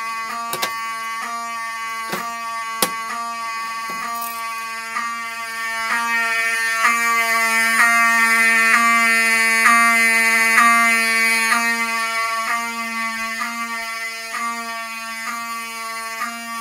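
A Notifier AFP-200 fire alarm panel sounds a loud, steady electronic alarm tone after an addressable pull station is pulled, a continuous pulsing buzz with a few sharp clicks near the start, heard alone without talk.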